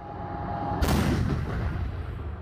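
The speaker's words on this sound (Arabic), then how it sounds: "على وقع دوي انفجارات متواصلة" A heavy blast from fighting in the Ukrainian city of Bakhmut, one loud explosion rolling out after a brief tone, with a long rumbling tail.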